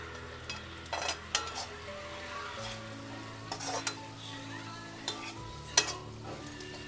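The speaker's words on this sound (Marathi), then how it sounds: "आता हे चांगलं फ्राय करून घेते." Ivy gourd (gilode) frying in a pan makes a low, steady sizzle, broken by several spatula scrapes and clinks against the pan at irregular intervals; no voices.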